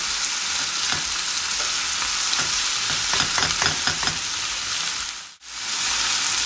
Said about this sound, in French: Alors on donne un peu de coloration à cette viande.